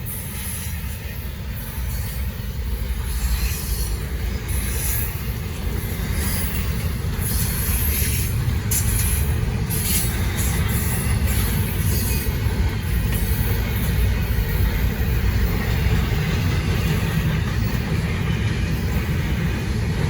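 Norfolk Southern freight train rolling past at night on the Charlotte District, a steady loud rumble of wheels and cars with faint squeals, continuous throughout without talk.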